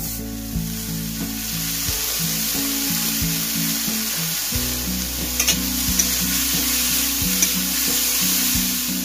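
Khesari greens frying with a crushed ginger tempering in a home kitchen, a dense steady sizzle punctuated by spoon knocks and stirring scrapes against the pan, close and loud, no voices.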